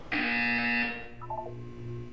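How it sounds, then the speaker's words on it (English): A buzzer in the video game Portal 2 gives one loud, bright sustained tone lasting under a second, followed by a few quieter short electronic beeps against a low hum. "When you hear the buzzer, look up at the ceiling."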